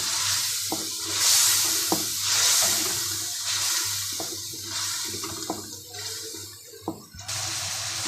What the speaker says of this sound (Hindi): इसको अच्छे तरीके से मिक्स कर लें और अच्छे तरीके से मसाले को भून लें।